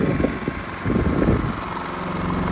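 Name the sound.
Genmax 7500 iAED dual fuel inverter generator running on low idle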